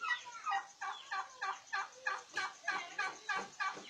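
Turkeys on a turkey farm gobbling in a rapid, rhythmic run of about nine repeated warbling bursts, close and fairly loud, with no voices.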